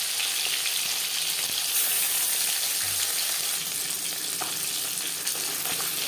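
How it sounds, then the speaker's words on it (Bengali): Bele fish frying in hot refined oil gives a steady, dense sizzle that holds evenly throughout, close and continuous with no talking. "অয়েল গরম করে নিয়েছি। দিয়ে দেব মাছ। আমি রান্নাটা রিফাইন্ড অয়েলে করছি।"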